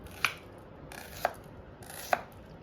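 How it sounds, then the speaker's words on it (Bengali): A knife chopping vegetables such as potato, tomato and onion on a board, three distinct evenly spaced cuts with sharp attacks, close and clear against a quiet background, no talking. "বাহ, সুন্দর কাটছো।"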